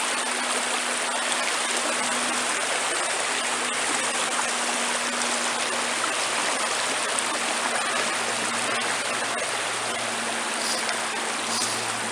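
A shallow, low river runs over rocks in a constant, broad rushing wash, close and steady throughout with no other sounds on top.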